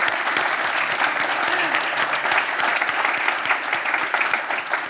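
An audience applauds after a talk on geopolitics and global trade, dense steady clapping from a sizable crowd filling the room at a constant level throughout.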